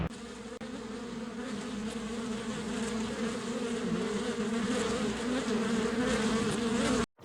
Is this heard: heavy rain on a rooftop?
no